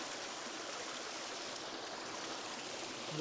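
A shallow mountain stream flowing after recent rain, a steady, even rush of water close by with no voices.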